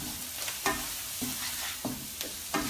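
A spoon or spatula stirs spiced potato and cauliflower for aloo gobhi in a hot frying pan, with repeated scraping strokes roughly every half second over a steady sizzle, close and clear, with no talking.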